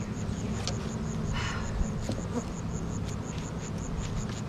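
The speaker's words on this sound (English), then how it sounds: "there's bees up top, so I'm okay. They're working." A dense swarm of honey bees hums at the top of a hive, a close, unbroken buzzing that holds level for a few seconds, with a couple of soft clicks and no talking.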